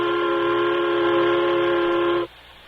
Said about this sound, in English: There's the turtleback's whistle now.